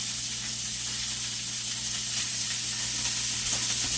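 Steady, close sizzling hiss of food frying in its own oil in a hot pan, bacon-style, continuous with no break over a low hum, as part of a New Year's Day meal.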